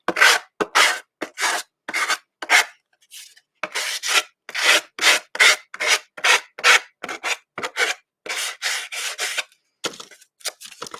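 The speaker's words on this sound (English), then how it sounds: "you can just kind of sand right along those" Sandpaper rubbed along the edges of a painted glass mason jar in quick repeated strokes, a close, rasping scratch in rhythmic bursts with short pauses between them.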